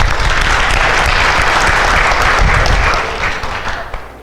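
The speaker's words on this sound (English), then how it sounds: "give yourselves a round of applause" A dance class claps for itself in a studio, loud, dense applause close by that holds steady, then thins and fades toward the end.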